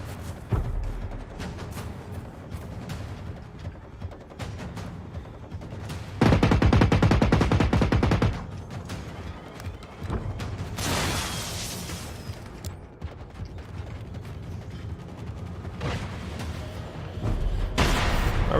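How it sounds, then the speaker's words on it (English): Gunfire in the robot-fighting game Generation Zero, with a tank nearby firing back: scattered shots and a loud, dense burst of automatic fire midway, then more shots and a hissing blast, with no talking. "We're just gonna explore casually while we're getting shot at."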